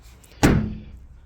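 A single car door slams shut nearby, a sharp thud that decays quickly into a quiet background.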